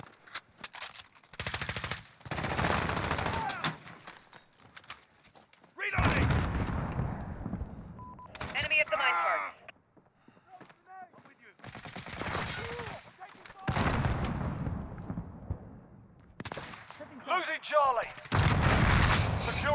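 Bursts of automatic gunfire and heavy shots in the video game Call of Duty: Modern Warfare, Demolition mode, coming in loud repeated volleys separated by brief lulls, with game voice callouts mixed in.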